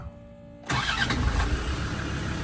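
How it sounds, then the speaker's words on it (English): A Land Rover Defender 90 TD5 diesel cranks and fires about two-thirds of a second in, after a quiet lead-in with a faint whine, then settles into a steady, loud, close idle. "quick video of start up and running on this 90 TD5"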